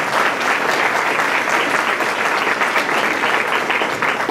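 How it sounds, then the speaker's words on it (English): Sustained applause from a business journal audience fills the room after a speaker is honored at a keynote event, a dense steady wash of many hands clapping with no talk over it. "So another round of applause for Ricardo Calderon."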